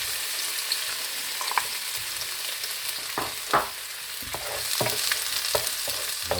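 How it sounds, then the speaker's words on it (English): Sausages toast in a tablespoon of hot olive oil in a pan over a low flame, a steady close sizzle broken by scattered spits and scraping stirs, with no talking. "So now I'm ready to go in and just toast the sausages."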